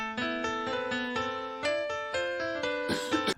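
Dry bright piano sample with no effects, playing a dark melodic pattern of clear repeated chords and notes, close and steady, with a brief noisy burst near the end.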